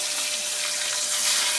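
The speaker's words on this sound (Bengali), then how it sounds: "মাছ ভাজা বসিয়েছি" Small fish frying in oil in a pan, giving a steady, close hiss and sizzle that holds throughout with no talk.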